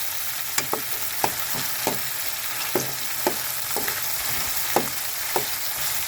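Monggo (mung beans) cooking in a pan, with a steady sizzle and frying hiss broken by irregular sharp scrapes and taps of stirring, close and clear, no voices.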